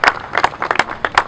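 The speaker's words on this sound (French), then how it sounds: "c'est l'honorable Daniel Mbaou Soukissa que nous allons devoir inviter sous vos applaudissements dans la maison du conseil." A small group applauds at a formal council gathering, a short run of loose, separate hand claps sounding close and uneven, with no talking.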